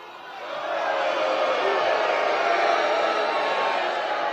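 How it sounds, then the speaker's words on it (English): A hostile crowd at a political event reacting together, a broad sustained roar of many voices that swells in the first second and then holds steady and loud. "Listen to that crowd. Venomous."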